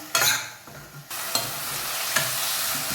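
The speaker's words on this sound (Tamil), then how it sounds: "சுண்டைக்காயை தண்ணி இல்லாமல் எடுத்து போட்டு அதையும் வதக்குங்க. நல்லா வதக்குங்க" Turkey berries are sautéed in a pan, with a close, continuous sizzle and a few distinct scrapes of the spoon as they are stirred.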